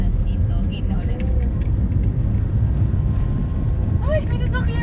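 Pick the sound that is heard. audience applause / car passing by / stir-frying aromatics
car passing by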